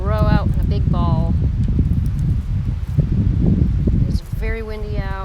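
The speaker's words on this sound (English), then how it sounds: "Very windy out." Steady wind rushes and buffets a microphone throughout, loud and continuous, while a person talks at the start and end.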